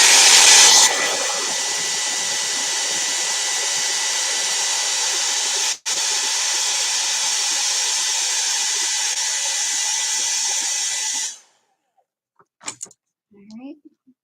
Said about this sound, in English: All right, hair dryer coming on, guys.